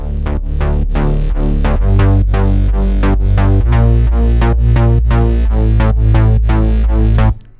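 A loud, steady electronic bass line in FL Studio, a synth bass layer with a deep sub bass underneath, hitting repeated rhythmic notes in a continuous pattern before stopping abruptly.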